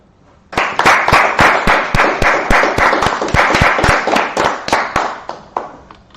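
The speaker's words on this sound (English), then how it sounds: "Let's clap it up." A group claps loudly in unison, keeping a steady, fast rhythmic beat for several seconds with no voices over it, then tapers off at the end.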